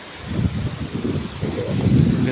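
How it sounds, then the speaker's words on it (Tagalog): Steady wind buffeting the microphone at a blue lagoon, a low rumbling roar that swells and gusts throughout, with no voices. "Malamig, kasi mahangin."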